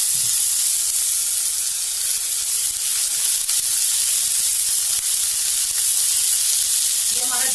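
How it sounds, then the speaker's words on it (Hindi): Mutton mince sizzles steadily in hot oil in a pan, a loud, continuous hiss and crackle that holds for the whole stretch, with no talking. "जो हमारा मटन का कीमा है वो हम इसके अंदर डाल देंगे।"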